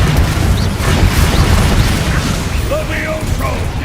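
A Confringo spell explodes during combat in Hogwarts Legacy, a loud, dense rumbling blast with sustained crackling and mechanical clatter throughout, plus faint brief tones near the end.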